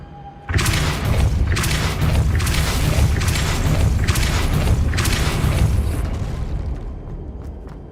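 A Depulso force spell goes off in Hogwarts Legacy inside a witch's tomb, a loud booming blast with a sustained roaring rumble and rhythmic surges that slowly fades near the end.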